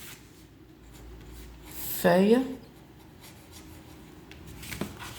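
Pen scratches briefly across paper at close range, a quick burst of handwriting in a quiet room, while someone speaks French.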